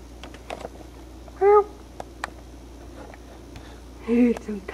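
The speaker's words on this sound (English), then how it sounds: "My kitty." A pet cat meows twice indoors, two short, clear calls a few seconds apart over a quiet room with faint clicks and small background noises.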